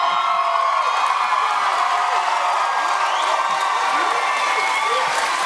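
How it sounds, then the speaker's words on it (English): A talent show audience at the Britain's Got Talent 2010 semi-finals cheering, screaming and whooping, a loud sustained roar of many voices with high shrieks throughout. "They're actually cheering and screaming at your son"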